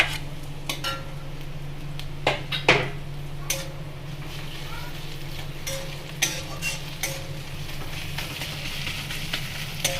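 Onion with ginger-garlic paste frying in a pan for a jackfruit curry, a low steady sizzle under scattered sharp clinks and taps of a utensil against the pan, with no talk.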